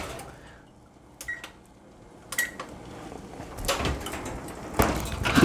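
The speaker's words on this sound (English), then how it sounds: "I'm gonna cut this oven on." A home kitchen oven being switched on for a meatloaf: a few clicks and short electronic beeps, followed by clattering handling noises that build toward the end.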